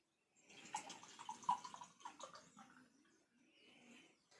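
Water poured into a laboratory beaker for a convection experiment: a soft, close splashing trickle that starts after a brief silence, fluctuates, then tapers off quietly.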